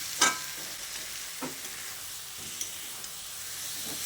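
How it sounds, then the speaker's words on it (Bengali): Raw jackfruit being sautéed with spices in a pan: a steady low sizzle and hiss with a few soft stirring scrapes, close and moderately quiet, no voices. "মশলার সঙ্গে এঁচোড়টা দিয়ে খুব ভালো করে কষিয়ে নিয়েছি"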